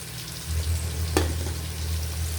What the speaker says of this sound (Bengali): এখানে চিংড়ি ভাজা হইতেছে